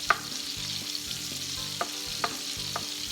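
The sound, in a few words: chopped onions frying in a pan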